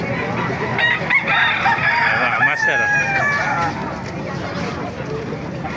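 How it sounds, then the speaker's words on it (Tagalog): Roosters crow repeatedly over a busy backdrop of clucking chickens at an animal market in Baliuag, Philippines, with someone talking briefly near the start. "Makita ko sa inyo mga manok dito sa Baliwag yan."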